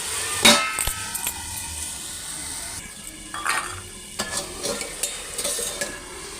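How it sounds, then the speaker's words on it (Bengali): Marinated chicken stirred and fried in a pan, with scraping spoon strokes and a light sizzle in uneven bursts, close and moderately loud, with no talking. "এবার চাপা দিয়ে দিয়ে আমি চিকেনটা ভালো করে কষবো"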